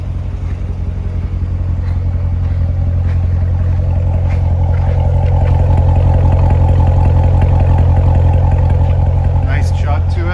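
A 2018 Chevrolet Corvette Grand Sport's engine runs steadily with a deep low rumble, loud and close, holding a constant idle-like chug throughout.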